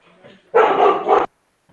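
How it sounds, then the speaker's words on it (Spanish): A dog lets out one loud, close, excited bark, briefly preceded by a faint yip, during an online talk. "Perdón que mi perro está un poco alborotado"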